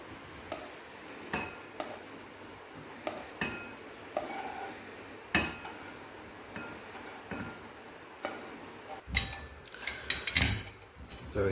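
Cooked chicken patty filling being transferred into another bowl, with scattered clinks and scrapes of a utensil against the bowl, quiet and close, growing busier with a cluster of brighter clinks near the end.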